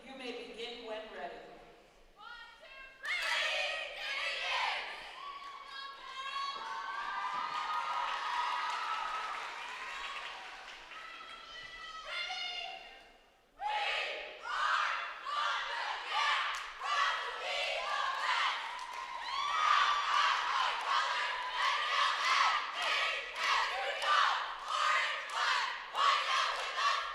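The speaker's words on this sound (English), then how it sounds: "they're opening right up with some nice crowd response cheers" Loud crowd cheering and chanting from a cheer team and spectators at the 2022 ECC Cheerleading Championships, rhythmic shouted calls rising in bursts, dipping briefly near the middle, then resuming in a sustained roar with claps.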